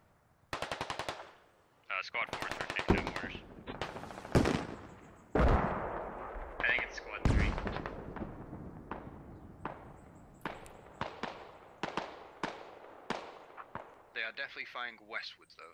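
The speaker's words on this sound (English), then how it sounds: "Are they mortaring you guys? Russian mortars coming out here." Mortar impacts and automatic gunfire in the military shooter game Squad, a series of loud sharp bursts and booms in quick succession with scattered distant shots between them, and voices talking over parts of it.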